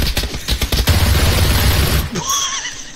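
Rapid pistol shots in PlayerUnknown's Battlegrounds, a quick loud string of cracks over about a second, followed by a sustained noisy wash and a brief high whinny-like tone at the end.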